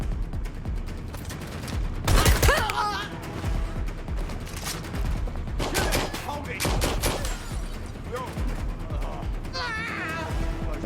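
Gunfire in a multiplayer shooter video game, repeated bursts of shots and a loud volley near the start, mixed with other game sounds throughout.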